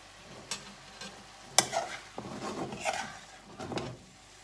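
Noodles with spiced beef are stirred and tossed in a hot pan with soy and oyster sauce, giving scattered scraping clatters and soft sizzling bursts, irregular and close, with no talking.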